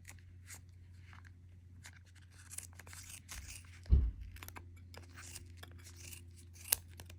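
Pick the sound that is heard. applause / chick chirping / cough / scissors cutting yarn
scissors cutting yarn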